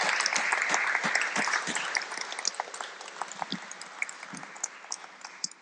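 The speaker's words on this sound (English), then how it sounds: "let's give our speaker a round of applause" Church audience applauds a visiting guest speaker, a full burst of clapping at first that thins into scattered individual claps toward the end.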